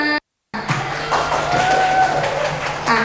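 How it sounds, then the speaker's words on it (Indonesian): Applause from a small audience at an Indonesian literature reading and writing session: a steady wash of clapping rises after a brief silence and continues at moderate loudness without much build. "Tepuk tangan requestnya."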